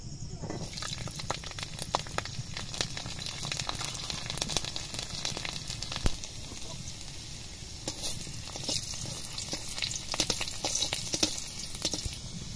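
Soft, continuous crackling sizzle of garlic frying in hot oil in a wok, with faint pops and occasional clinks throughout.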